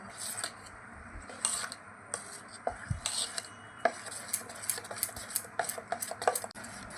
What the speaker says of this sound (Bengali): জল দিয়ে দিলাম, ভালো করে মিশিয়ে নেব।